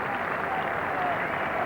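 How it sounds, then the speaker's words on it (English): Warm crowd applause at Lord's during a 1986 England v India Test match as Graham Gooch is saluted, a broad, sustained wash of clapping mixed with a commentator speaking over it. "there'll be lots of applause for Graham Gooch"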